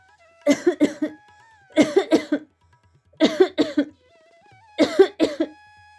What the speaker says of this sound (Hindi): गरीब खड़ा होता है और तेज तेज खांसी करने लग जाता है।